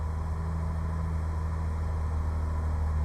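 A Jaguar E-Type engine idling steadily just after starting, with a low, even rumble that holds constant and close throughout, with no voices.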